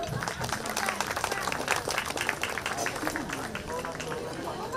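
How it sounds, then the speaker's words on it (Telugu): An audience at a kolatam dance performance applauding, dense continuous clapping mixed with crowd murmur and some voices, moderately distant and steady. "గట్టిగా చప్పట్లు కొడదాం."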